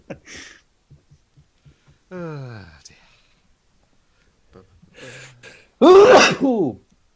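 A single loud, sharp sneeze bursts out near the end, after a few soft clicks and a brief voiced sound in an otherwise quiet room.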